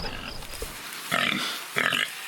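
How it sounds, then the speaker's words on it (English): Pig oinking and grunting in a few short bursts, two louder squealing snorts near the end, close and clear with no talking over them. "A pig."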